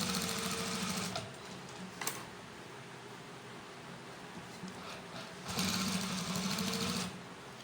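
A sewing machine stitches the edge of a kameez lining in steady whirring runs, with louder bursts at the start and again near the end and a brief pause between.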